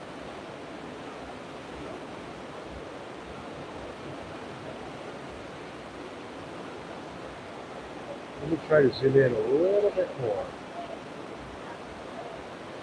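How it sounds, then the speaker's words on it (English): Steady rushing wake water from the cruise ship Grand Princess at sea, a constant faint wash with wind, and a voice speaking briefly partway through. "Sorry about the wake noise."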